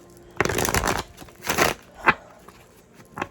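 A deck of tarot cards is shuffled by hand for a reading, three quick papery riffling bursts, the last one short and sharp, close by in a quiet room.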